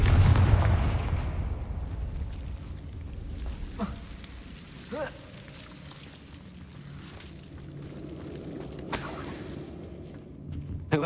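A fiery Confringo blasting spell in Hogwarts Legacy goes off with one heavy, close boom that rolls into a fading rumble, followed by a few smaller sharp cracks and a crackling tail.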